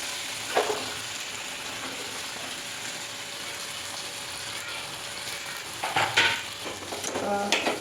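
Onion, capsicum, tomato and green chili sizzle steadily as they sauté in a pan, with a few louder scraping stirs near the start and toward the end.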